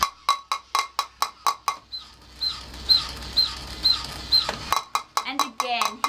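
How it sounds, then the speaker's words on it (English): A toy drumming monkey taps its little drum in quick, evenly spaced clicky beats, pausing briefly mid-clip as a voice talks, then resuming the rapid close tapping. "here we've got a little drum with a little drumming monkey"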